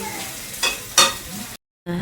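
Beetroot frying in a pan, a steady sizzle with stirring scrapes and two louder bursts, then a brief silence before the sizzling resumes.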